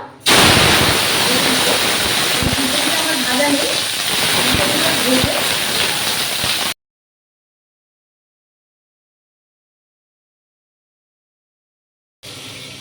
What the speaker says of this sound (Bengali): এগুলো একটু ভাজা হচ্ছে